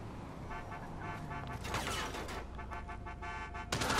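Gunfire erupting in GTA V Online, a rapid fusillade of shots with a loud burst near the end, over steady in-game background noise.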